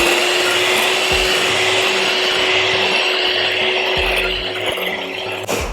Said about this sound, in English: finally whisk them together